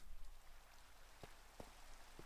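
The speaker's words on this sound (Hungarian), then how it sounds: "Esik az eső is." Steady, faint rain falls in the Minecraft video game, a soft continuous hiss with a few brief ticks and pops standing out, low in level and with no talking.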